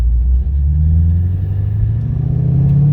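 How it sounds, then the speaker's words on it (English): An LS3 V8 in a car rumbles with its mufflers open, a loud, deep and steady engine drone that holds throughout with no voices. "Here got the mufflers open."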